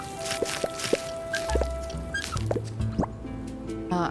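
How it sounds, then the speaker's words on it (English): Squeaky sprinklers watering crops in the farming video game Grimshire give off drippy, plopping water sounds with thin tonal squeaks and chirps, steady and fairly quiet, with no talking. "The sound of these squeaky sprinklers."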